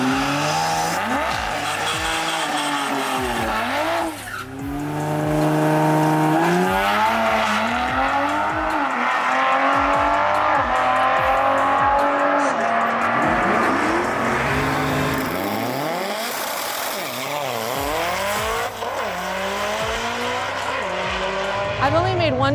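A drag racing truck makes a quarter-mile test pass, engine revving and rising in pitch through repeated gear changes, with tire squeal and fluctuating roar over about twenty seconds, some voices mixed in.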